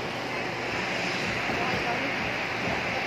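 Strong wind buffets steadily outdoors, a constant roaring rush close to the microphone with no breaks throughout.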